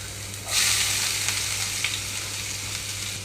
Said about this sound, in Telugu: బాగా సన్నగా తురిమి పెట్టుకున్న ఉల్లిపాయ ముక్కలు వేస్తున్నాను